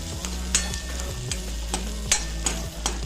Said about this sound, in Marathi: छान हा कांदा परतून घ्यायचा आहे.